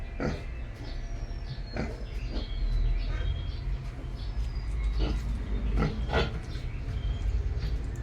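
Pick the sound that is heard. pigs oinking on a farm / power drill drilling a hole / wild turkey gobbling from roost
pigs oinking on a farm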